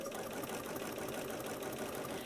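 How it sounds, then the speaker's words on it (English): A sewing machine quilting a dyed fabric art piece with a narrow zigzag stitch gives a steady, quiet mechanical whir that runs without a break. "And now I'm quilting it using a narrow zigzag on my sewing machine."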